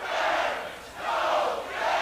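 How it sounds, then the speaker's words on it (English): A large crowd shouts outside a building, a massed roar of voices that swells, dips briefly around the one-second mark, then surges again, distant and continuous with no clear words. "There's got to be a crowd out there."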